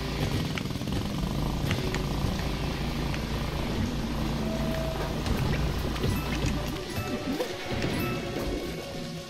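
Motorcycle engine from riding in Super Mario Odyssey's urban kingdom, a continuous revving drone with scattered clatters and impacts layered over it, steady and fairly loud throughout.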